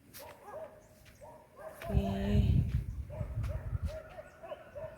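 A dog barks repeatedly from across a river beside village farm fields, faint and distant, with the barks spaced irregularly over low rustling and handling noise.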